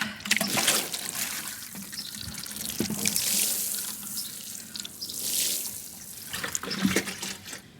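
Water poured over freshly sown spinach seeds in garden soil, a steady close splashing and trickling stream that swells and eases over several seconds, with no talking.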